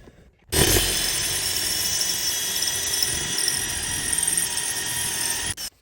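A power drill spins a 9/64 bit, drilling during a pedal set installation on a Porsche Cayman S 987, a loud, steady high-pitched whine that starts abruptly, holds for about five seconds and then cuts off.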